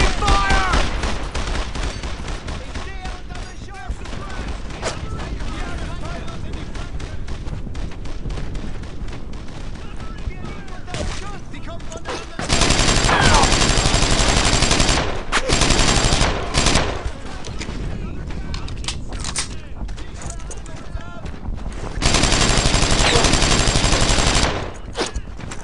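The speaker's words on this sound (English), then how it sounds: "They're shooting at me!" Dense gunfire from the World War II shooter game Brothers in Arms: Earned in Blood, sustained bursts of loud rifle and machine-gun fire with booming blasts, swelling into especially heavy volleys at intervals, with shouted voices mixed in.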